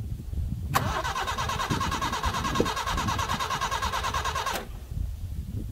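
An old Subaru Brat pickup engine cranks briefly and then catches, running steadily with a rough, pulsing rumble for several seconds before cutting off abruptly.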